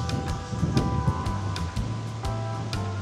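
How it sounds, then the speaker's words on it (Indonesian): Wind gusts buffet the microphone outdoors, a rumbling, surf-like rush with low thumps and rustling that stays fairly loud throughout, with no voices. "nungguin angin lewat"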